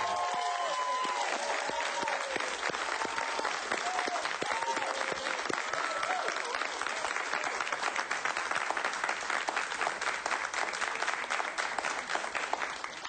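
A television studio audience gives long, steady applause for the veteran Cuban film actor Reinaldo Miravalles, dense even clapping with a few faint cheers rising early on, sustained without a break.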